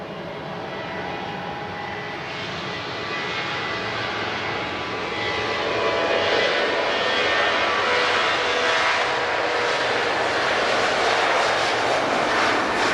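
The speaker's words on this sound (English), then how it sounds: "That was a noisy 737." A Boeing 737 jet takes off at Lisbon Airport, its engine roar building from a steady distant drone to a louder, broad rushing thunder that holds strong through the end.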